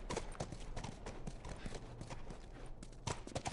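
Horse hooves clip-clop steadily on the ground in The Last of Us video game, a faint, rhythmic run of hoofbeats with no voices over it.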